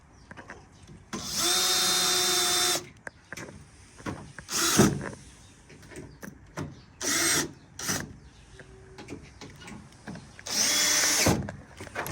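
A power drill drives screws into a metal louvred gazebo during a backyard DIY installation, with three loud sustained whirring bursts separated by shorter clicks, knocks and handling noises nearby.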